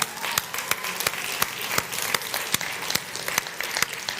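Audience applause in a Christie's London auction room for the underbidder, a steady patter of clapping with sharp individual claps standing out, moderately loud and continuous throughout.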